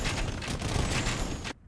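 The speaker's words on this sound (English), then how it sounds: "Some nice hits of the cannon." Cannon fire in a strategy video game, a dense burst of overlapping booming shots rolling together loudly for over a second, then cutting off abruptly into near silence.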